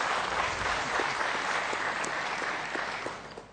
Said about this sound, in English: Once again, a round of applause for Mr.